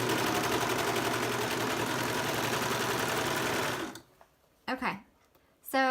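A serger stitches a seam on stretch tights. It runs as a steady, rapid mechanical whir for about four seconds and then stops, followed by a couple of short rustling handling noises.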